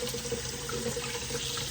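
Cold tap water runs steadily from a faucet while fruit is rinsed under it, a constant close splashing hiss without speech.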